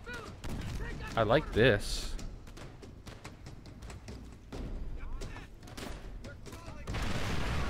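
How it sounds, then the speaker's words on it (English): Mortar explosions in Call of Duty: World at War land as repeated booms and thuds amid other battle noise, while a player talks over them. "Just throwing mortars with your bare hand."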